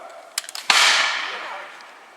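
War of 1812 reenactors fire a musket volley outdoors: a few light clicks, then one sharp, loud crack that rings out and fades over about a second and a half.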